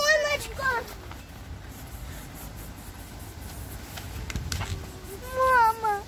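A small kitten meows in high, wavering cries near the start and again near the end, while children talk and play around it outdoors near a house in southern Russia.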